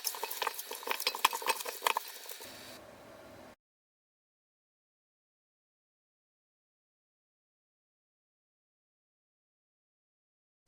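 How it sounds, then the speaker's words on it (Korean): Kimchi seasoning made with ground chili, anchovy sauce and rice being mixed by hand for a kimchi batch, wet squelching and rattling strokes up close for about three seconds, then silence. "기깔나게 버무려 주세요."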